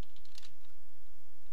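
Quick burst of computer keyboard keystrokes as a Google search is typed, a few close clicks early on and then fading to quiet.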